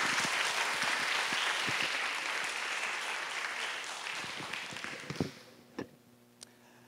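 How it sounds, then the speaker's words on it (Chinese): An audience applauds to welcome the director of Academia Sinica to the stage at a popular-science lecture. The clapping is steady and dense for about five seconds, then thins into a few scattered claps before it stops. "请大家热烈的掌声欢迎廖院长"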